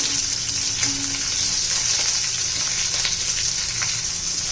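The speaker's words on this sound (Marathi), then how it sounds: "तेलामध्ये चांगलं परतून घ्यायचं आहे, म्हणजे भाजून घ्यायचं आहे" Green chillies fry in hot oil in a pan, giving a loud, steady sizzle throughout with faint stirring underneath and no voices.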